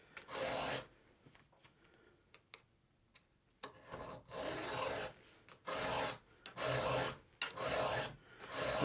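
A chainsaw file rasps across a chainsaw tooth in repeated strokes, each push a harsh scraping burst with short pauses between, close and fairly loud with no talking.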